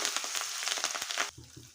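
Tempering seeds, curry leaves, turmeric and ginger garlic paste fry in a pan with a busy, crackling sizzle that spits close up, then cuts off abruptly, leaving quieter low bubbling.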